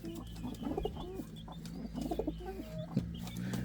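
Pet Indian fantail pigeon cooing close by, soft repeated rolling coos in short bursts with faint fluttering and clucky bird sounds around it, no talking.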